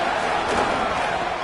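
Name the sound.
stadium crowd roaring on 3rd down in a football video game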